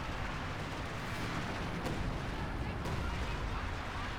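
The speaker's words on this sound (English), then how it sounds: "some sort of artillery barrage there" An artillery barrage in the real-time strategy game Company of Heroes 2: a steady, dense roar of distant rumbling with a couple of sharper cracks breaking through midway.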